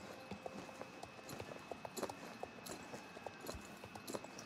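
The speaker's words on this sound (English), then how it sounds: "we are back again with this horse just going on walking" Horse hooves clip-clop at a steady walking pace in the Star Stable video game, a continuous run of soft, even footfalls heard alone.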